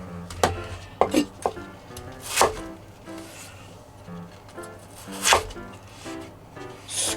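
A knife dices Chinese yam into small cubes on a cutting board, giving close, irregular sharp chops and knocks with quiet pauses between.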